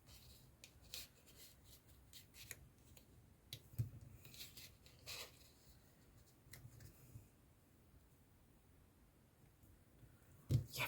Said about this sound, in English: I'll just carefully cut those scallops off.